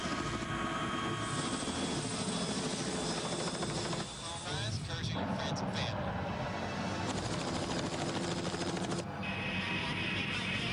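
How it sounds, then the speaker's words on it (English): Helicopter engine and rotor drone steadily throughout, loud and continuous, with a few brief shifts and clatters on top, while people talk. "Can't believe I'm getting in this helicopter."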